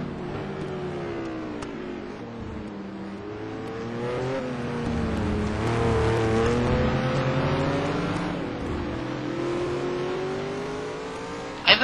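A race car on the Nordschleife accelerates out of the last corner onto the start-finish straight, its engine note climbing and holding in a loud, sustained roar that swells near the middle, with a commentator talking over it.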